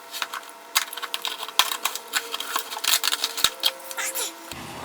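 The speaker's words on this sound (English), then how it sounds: "Looks like we've got tape around the outer edge here, so I'm going to go ahead and cut all this open here." Knife cutting through tape on the box of an RC monster truck, heard as close scratchy slicing and crackling packaging noises in irregular bursts, with a voice talking over them.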